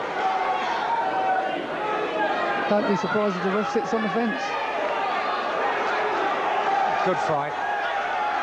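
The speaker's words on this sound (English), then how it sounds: "And the crowd are loving it, really rising to these two now" A boxing crowd at a Robbie Regan versus Francis Ampofo bout roars and cheers in a steady wash of noise throughout, with a commentator talking over it.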